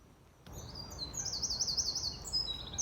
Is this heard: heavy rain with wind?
no